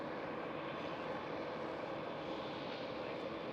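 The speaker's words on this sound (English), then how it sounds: "the Qatar Cargo just crossed the runway" A Qatar Cargo aircraft crosses the runway at Amsterdam Schiphol airport, heard as a faint, steady, distant engine roar with no clear rise or fall.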